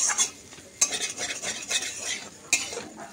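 A utensil stirs paneer frying in a pan, making several sharp metallic clinks and scrapes against the pan over a light sizzle, with no talking.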